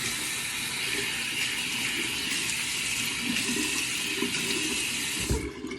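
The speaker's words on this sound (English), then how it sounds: "And then you rinse with cold water." Tap water runs steadily into a sink as a face is rinsed with cold water after shaving, a continuous close splashing wash that stops abruptly near the end.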